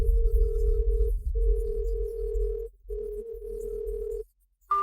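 A steady telephone dial tone hums through the handset during a call that fails to connect. It breaks off twice in long sustained stretches, stops near the end, and a brief higher tone follows.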